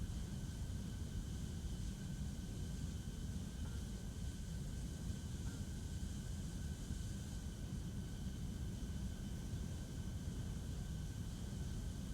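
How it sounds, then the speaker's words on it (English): An F-14 jet in a flight video game holds a steady, even engine roar on its landing approach, fairly quiet and unbroken, with no talking. "Landing the F-14 is pretty straightforward."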